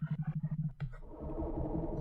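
A Scratch "boom" sound effect played back slowed down: a short tonal burst gives way to a deep, drawn-out low rumble that holds steady to the end.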